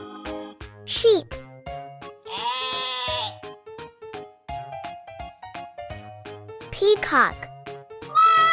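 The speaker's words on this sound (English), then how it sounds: "Sheep." Sheep bleat in several wavering calls, set among farm animal sounds over a light children's music track with a steady rhythmic beat.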